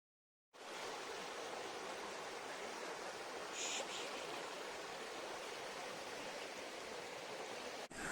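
Kote Abbe waterfall in Coorg thunders as a loud, unbroken roar of falling water that starts abruptly after a short silence and holds steady to the end.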